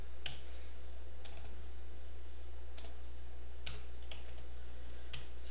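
Sparse keystrokes on a computer keyboard while VBA code is entered, with single clicks spaced about a second apart over a steady low hum in a quiet room.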